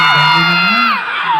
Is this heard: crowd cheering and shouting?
yes